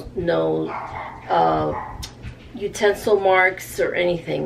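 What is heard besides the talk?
Morkie (Maltese Yorkie mix) terrier dog barking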